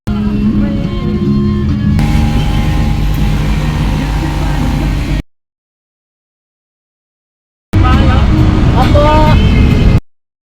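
Riding inside a multicab near the Lyceum, the small vehicle's engine drones steadily with road rumble and traffic, cutting out midway and resuming briefly near the end.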